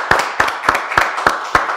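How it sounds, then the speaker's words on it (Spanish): Audience on a TV talk show clapping for a couple, striking in steady unison: sharp, evenly spaced claps at about three per second, loud and close, with no talk. "Vamos a darle un aplauso al amor y a esta parejita"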